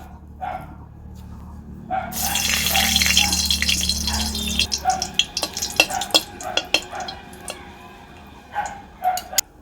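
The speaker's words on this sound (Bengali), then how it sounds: "তেল গরম হয়ে গিয়েছে, এবার এতে দিয়ে দেবো আমি দুটো শুকনো লঙ্কা" Dry chillies hit hot oil with a loud burst of sizzling that settles into crackling and sharp pops, followed by clinking and stirring sounds.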